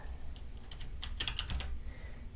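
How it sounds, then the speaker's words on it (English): Keystrokes on a computer keyboard while entering a file name at a Raspberry Pi terminal, a quick irregular burst of clicks mid-clip over quiet room noise. "start typing that file name and then hit enter"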